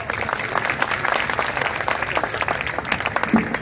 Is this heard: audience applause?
yes